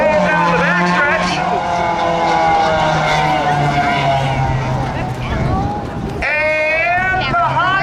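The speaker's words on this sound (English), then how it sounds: "we got the Honda versus the Subaru. They go off into turns 1 and 2." A Honda and a Subaru racing on the oval at Hudson Speedway during a Memorial Day spectator race, engines whining and revving through the turns under loud announcer commentary.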